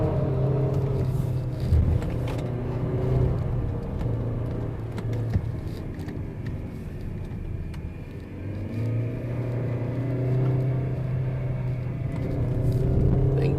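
A Peugeot 3008 with an automatic gearbox drones steadily as it climbs Genting hill, a low engine hum and road rumble heard from inside the cabin, with slight rises in pitch as the revs change.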